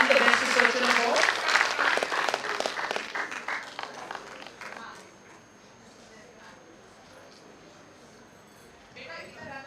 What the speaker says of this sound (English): A big round of applause for the person who won the Best Researcher award.